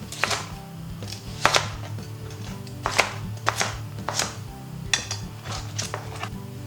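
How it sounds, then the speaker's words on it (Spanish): A knife chops a cauliflower stalk into small pieces on a board, with about a dozen sharp, fairly regular knocks close by and no talking. "El tallo no lo tiramos, lo cortamos en trocitos"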